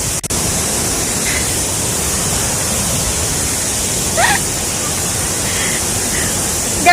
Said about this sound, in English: we're on the top of the waterfalls, one of the waterfalls, in Karangahaki